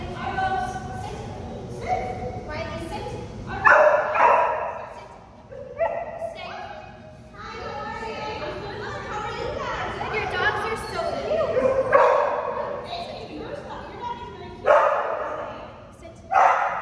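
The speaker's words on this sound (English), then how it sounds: "then there was occasional barking, so we've got to work on that." Several dogs barking in bursts during leash greeting practice, loud yaps and woofs interrupting ongoing nearby talk, with quieter whimpers between the louder barks.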